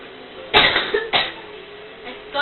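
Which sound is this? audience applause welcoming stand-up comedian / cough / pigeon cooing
cough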